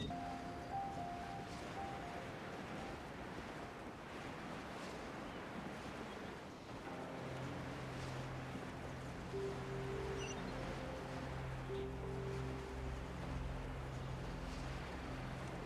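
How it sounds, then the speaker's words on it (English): Ocean waves wash around a ship at sea in Genshin Impact, a soft, steady surf and wind wash running throughout, with low sustained tones and faint melodic notes from the game's music layered underneath. "The waves are as calm as always."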